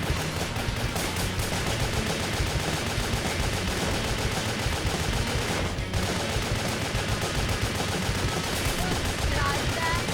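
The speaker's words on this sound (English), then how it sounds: "Trying to see, oh boy, if a full complement of shotguns would be able to take him out" Shotguns fire nonstop in the action video game Wet, a dense, loud barrage of overlapping blasts with no pauses, with some talk faintly underneath.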